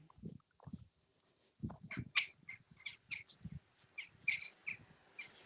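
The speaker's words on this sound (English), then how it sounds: "Stinky, noisy birds, jackdaws." Several birds give short, sharp, scratchy calls in an irregular series, jackdaw-like chatter moderately close and fairly quiet overall.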